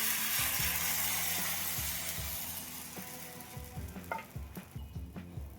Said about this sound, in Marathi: तयार केलेले मिश्रण तव्यावर ओतून हलक्या हाताने गोल गोल पसरवायचे.